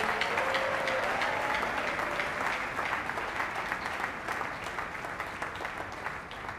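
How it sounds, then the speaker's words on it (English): Applause from a church congregation at a pastors' conference, a steady wash of many hands clapping that holds for several seconds and slowly thins toward the end. "Come, give them a big hand clap."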